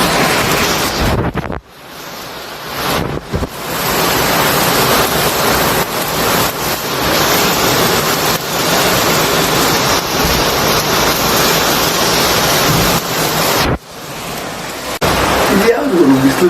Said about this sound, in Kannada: ಬೆಂಗಳೂರಲ್ಲಿ ಬಿಸಿಲು ಜೊತೆ ಜೋರಾಗಿ ಮಳೆ ಬರ್ತಿದೆ